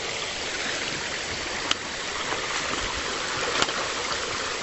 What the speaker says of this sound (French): Et là je vois la cascade au loin, la cascade d'Équerre.